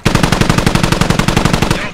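Rapid automatic gunfire in the Squad video game, a fast, evenly spaced string of about twenty loud, close shots that fires continuously for two seconds.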